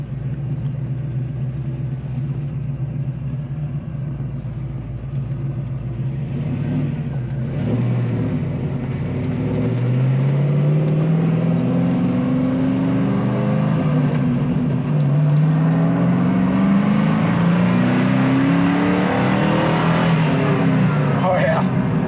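K5 Blazer with a roughly 500-horsepower engine accelerating on a drive, a steady engine rumble rising in rising sweeps as it pulls through gears, heard from inside the vehicle for the whole stretch.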